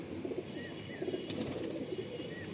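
A Tiger line pigeon gives a few soft, low coos in quick succession, faint against a steady background, with a light flutter in between.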